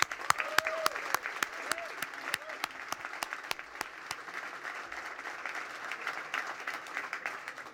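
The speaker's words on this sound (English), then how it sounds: "I really want to give a really great round of applause." A crowd gives a long round of applause for the employees at the Eataly ribbon-cutting, with dense, steady clapping throughout and a voice briefly audible at the start.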